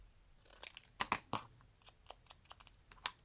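Scissors snip through paper while a folder is trimmed in a quiet room, giving a series of soft, irregular cuts and crisp clicks with a few louder snips.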